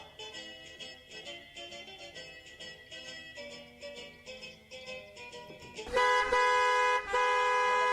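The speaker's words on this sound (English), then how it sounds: "What a busy traffic on this Friday evening." Busy Friday-evening city street traffic in a jam, with repeated car horn honks and toots nearby, ending in a long, loud, sustained blare from a horn.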